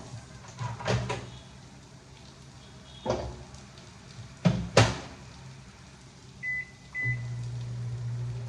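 Several clunks as a microwave oven door shuts, then two short beeps before a low steady hum starts up as it heats water.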